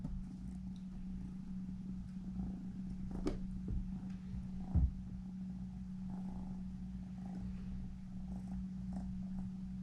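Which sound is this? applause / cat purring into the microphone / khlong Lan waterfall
cat purring into the microphone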